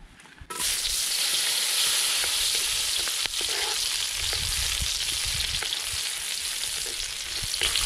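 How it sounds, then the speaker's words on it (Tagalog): Patola and meatballs sauté in a hot pan, a loud continuous hiss and crackle that starts abruptly and holds steady, close up with occasional soft knocks and no talking. "simulan na natin maggisa ng ating patola with meatballs"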